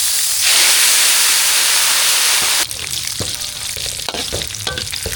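Curry leaves drop into hot oil already holding crackling black pepper and cumin for a tempering. A loud, steady frying hiss gives way to busier popping and spitting, heard close up with no talk.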